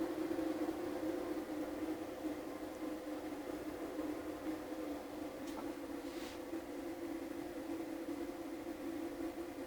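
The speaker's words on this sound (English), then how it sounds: "So you can hear the fans right now." Cooling fans on a Bluetti AC240 portable power station running on high, a steady faint whirring hum with a broad airy hiss, constant and unbroken for about ten seconds.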